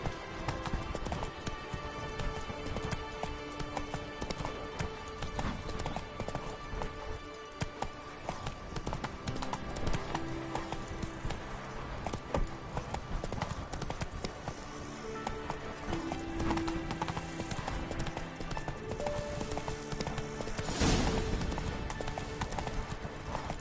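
Roach the horse gallops in The Witcher 3: Wild Hunt, steady rhythmic hoofbeats pounding close and loud for the whole stretch over dense in-game ambience, with a brief whinny-like flourish near the end.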